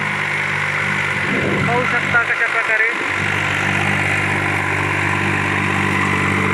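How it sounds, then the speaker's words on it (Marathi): Swaraj 630 tractor engine running steadily in a field during sugarcane work, a constant low droning hum throughout with someone talking over it. "ट्रॅक्टर मशागतीसाठी एकदम बेस्ट असा आहे."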